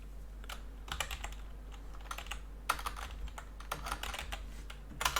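Code being typed on a computer keyboard gives irregular clusters of light key clicks, close and fairly quiet over a steady low hum, with short pauses between bursts and no talking.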